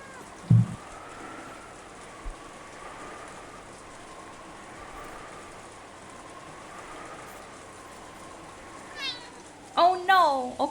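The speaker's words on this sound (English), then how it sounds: "Baby kitty screams." A cat meows loudly in a few drawn-out, rising cries near the end, close to the microphone, after a stretch of quiet background hum with a couple of brief knocks.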